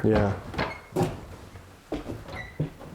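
A door or cupboard closes inside the Washoe Club, a historic building, giving a few hollow knocks and thuds spaced about a second apart, with a brief word spoken.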